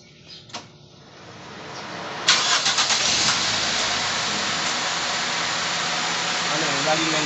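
A Toyota 4A-FE car engine with an ECU fault cranks and catches about a third of the way in, then settles into a steady, close, high idle. A few faint knocks come before the start.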